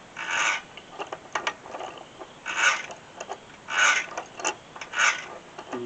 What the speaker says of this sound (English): take your pipe wrench and just thread it back in